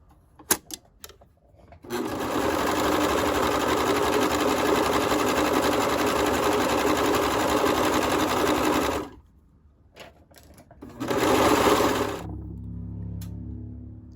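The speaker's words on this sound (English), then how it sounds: "I'm actually going to go to my serger and do both my pant legs" A serger runs loud and close while stitching jogger pant legs, holding a steady, high-speed whirring hum for about seven seconds, pausing, then buzzing again briefly before winding down.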